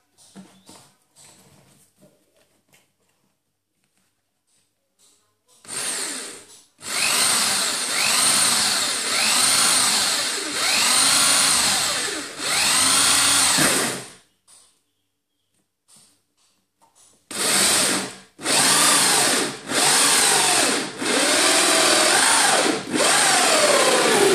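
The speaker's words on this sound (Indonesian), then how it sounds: "Setelah itu kita bisa melakukan pengeboran di bagian titik yang sudah kita berikan tadi" A power drill whines in two long bursts, boring holes into a plastic hydroponic aeroponic pipe with a high, gritty buzz, separated by a few seconds of near silence.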